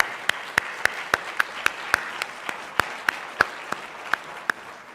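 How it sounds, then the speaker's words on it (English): Sparse, distinct individual claps at a fall opening meeting honoring a student panel and student athletes, about a dozen sharp hand claps at an uneven rhythm over quiet room tone. "Can we have one more round of applause for them today?"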